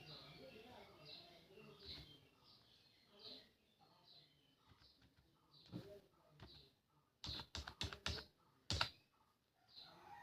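Keys tapped on a computer keyboard while entering a mobile number into an online job application form for Assam's PNRD panchayat department. The taps are faint and scattered, then grow louder in a quick cluster of clicks near the end, with a soft voice in the background.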